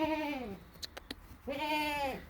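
A young brown goat bleats twice, each a drawn-out wavering cry, with a few faint clicks between them.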